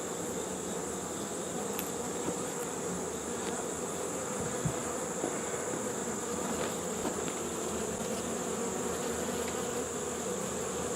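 Honey bees hum as a steady, faint drone around an open beehive outdoors, a continuous buzz with an occasional louder bee passing close.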